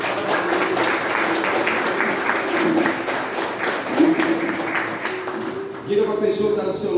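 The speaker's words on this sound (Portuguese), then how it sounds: "Dê um aplauso ao Senhor." Church congregation applauding during a celebration service, a steady wash of dense clapping with a sung or sustained tone running underneath and a brief swell of voices near the end.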